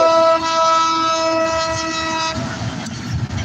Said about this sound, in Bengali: ট্রেনের শব্দটা শুনতে পাচ্ছেন মনে হয়